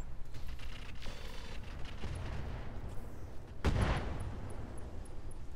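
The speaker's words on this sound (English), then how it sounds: "Let's use one rocket pack on it." Rocket pack missiles launching in the video game Roguetech: a low rumbling game soundscape with a sudden loud whooshing blast about two-thirds through that trails off into rumble.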